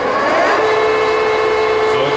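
A metal lathe chuck spins steadily with carbide insert tooling mounted, a continuous machine hum with a sustained tonal whine, running alone at close range.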